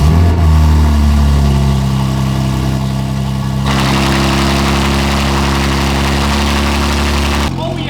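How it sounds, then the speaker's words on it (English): BMW M2 G87 engine idling through newly fitted exhaust tips, a loud steady low rumble with a brief rev at the start, holding a constant drone for several seconds before cutting off near the end. "now we gotta make sure the exhaust tips work"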